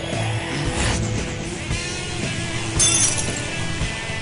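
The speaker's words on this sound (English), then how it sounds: "they sound like broken glass when they die." Enemies in Digital Devil Saga die with a glass-shattering sound amid a busy clatter of game noises, with a bright tinkling crash near the end.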